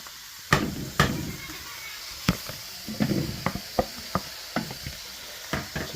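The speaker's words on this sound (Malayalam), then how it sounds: "ചിക്കൻ അതിനകത്തോട് തട്ടി കൊടുത്ത് ഒന്ന് ഇളക്കിയിട്ട്" Chicken tipped into a pepper chicken masala and stirred: sharp knocks and scrapes of a spoon against the pan recur every half second or so over a soft background sizzle.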